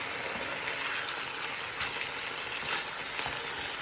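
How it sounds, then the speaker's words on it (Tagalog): Marinated, thinly sliced beef tapa fries in a pan with a steady, close sizzle and a few brief crackling spikes, no voices over it. "Pinarito ko yung tapa."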